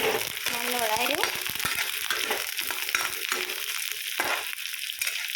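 Dal pieces and a bay leaf frying in hot oil for breakfast give a steady, close sizzle with occasional stirring clatter that runs throughout.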